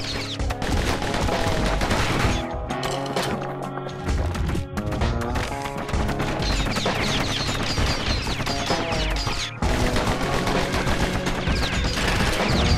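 Dense gunfire rattles in the action video game Bastion, rapid shots layered over busy music and effects, loud and nearly continuous with a brief break.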